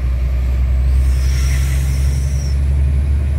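Heavy Iveco truck hauling 27 tonnes of cargo, its diesel engine a loud steady low roar close by, with a brief hissing whine rising and fading partway through.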